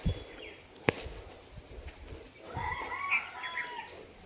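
Chickens clucking and calling nearby, with a sharp click early on and low background rustle, fairly quiet overall.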